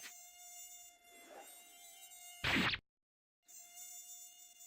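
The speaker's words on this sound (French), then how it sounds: "C'est juste un moustique." Robot mosquitoes in a cartoon give off a thin, high whining buzz that hovers close, broken by a short loud burst and a moment of silence before the whine returns.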